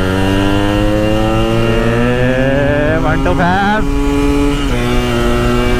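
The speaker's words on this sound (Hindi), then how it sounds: "अब अल्हम्दुलिल्लाह हमारी नई बाइक यामाहा RX 115 को इजाज़त दीजिए" A Yamaha RX 115 motorcycle engine runs with a steady, loud tone, rising briefly in pitch as it revs midway before settling back, with no one talking.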